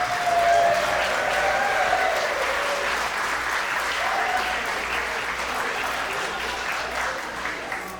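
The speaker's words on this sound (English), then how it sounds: "Let's get another round of applause for Mario and Patty." Wedding reception guests applauding the couple, a loud, continuous round of clapping with a few whoops and cheers near the start, steady throughout over a low room hum.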